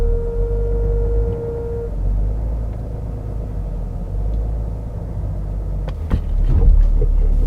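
A BMW 7 Series G11 idles with a deep, steady rumble and creeps onto plastic ramps, close and loud, ending with a sudden thump and a swell in the engine noise.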